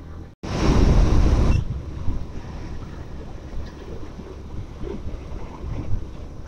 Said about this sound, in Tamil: பா, இப்படி காற்று அடிக்குது.